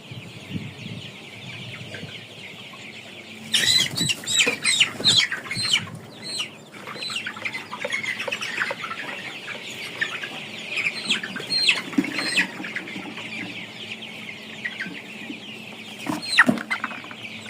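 Sonali chickens raised for meat cluck and squawk in a busy flock, with a burst of wings flapping and scattered calls continuing throughout at close range.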